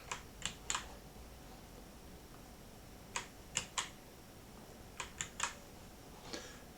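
Keystrokes on a computer keyboard as a username is typed, coming in short irregular bursts of a few taps each against a quiet room background, with no talking.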